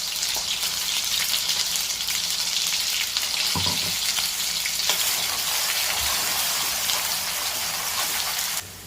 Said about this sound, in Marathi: आपण जे मसाल्याचं वाटण केलं होतं ते आपण त्यात घालत आहोत।